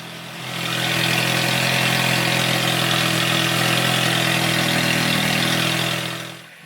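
A straight-piped 2019 Toyota RAV4 idles with a loud, steady exhaust drone that carries strong low harmonics, holding constant for several seconds before fading slightly at the end.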